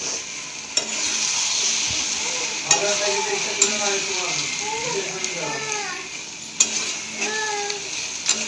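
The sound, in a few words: taro leaves stirred into frying prawns and spices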